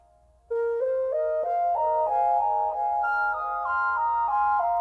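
Dry synth lead sample from Splice, with no effects, plays a clean stepping melody of sustained, bright tones, starting after a half-second pause and continuing steadily, alone without talk.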